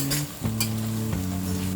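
Garlic frying in a pan for a veg soya keema pav, a steady close sizzle with a low hum running through it and no talking.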